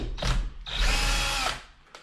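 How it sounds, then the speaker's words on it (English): An electric screwdriver removing screws from a JBL Boombox speaker, two close, loud whirring bursts, a short one followed by a longer run, then a brief faint third spin. "I'm going to use an electric screwdriver to speed this up"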